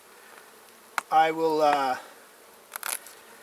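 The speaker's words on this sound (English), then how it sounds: "open up this flap, let these guys get out and start being bees" Honey bees buzz loudly for about a second as they stream out of an opened nucleus hive, a close harmonic drone with brief faint buzzes afterward and someone speaking a few words.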